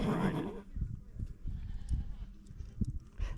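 Goats on a ranch in Carmel Valley bleat close by, a loud burst at the start followed by softer, uneven animal sounds and rustling.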